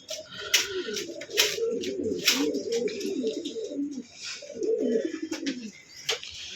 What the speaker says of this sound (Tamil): அப்புறம் பார்த்திங்கன்னா இது கர்ணப்புறாங்க, ஓவரடி.